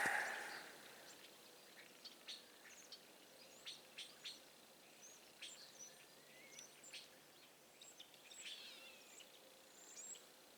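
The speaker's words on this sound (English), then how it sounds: "Birds singing." Scattered bird chirps and short song phrases by the Rat River, fairly faint and distant, over a quiet outdoor background with a high insect-like hum.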